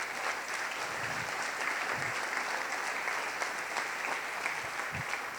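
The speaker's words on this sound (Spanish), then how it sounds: "denle otro aplauso al Rey, por favor." A church congregation applauds steadily throughout, a dense, even wash of clapping from many hands that holds at a constant level without pause during a Sunday service.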